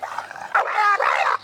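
Louie the dog gives a short run of whimpering yelps and high barks, close and fairly loud, lasting just over a second.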